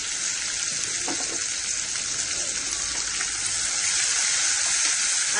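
Onions fry in a pan for a Kerala-style chicken stew, giving a loud, continuous hissing sizzle that holds steady throughout, close up and heard alone.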